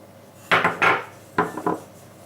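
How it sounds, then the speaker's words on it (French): A utensil scrapes and knocks against a bowl while flan pastry dough is mixed with egg and water, in four short, close bursts of clattering and scraping with brief pauses between. "Et on vient mélanger, ça prend juste quelques secondes à mélanger"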